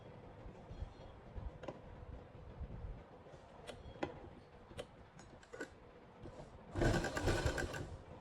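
A sewing machine stitches pleats into a shirt, running in short ticking bursts at a steady pace, with a louder, denser run of stitching near the end.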